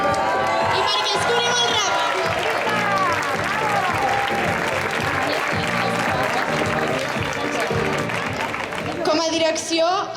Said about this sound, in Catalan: I també volem un fort aplaudiment